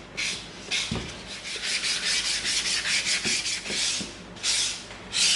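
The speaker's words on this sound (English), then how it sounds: "now we're gonna come in with our sanding sticks. We're gonna use our 220" A 220-grit sanding stick rubbed by hand along the Dremel-cut edge of EVA foam for a hand cannon prop, giving repeated close, soft rasping strokes in a steady back-and-forth rhythm with no talking.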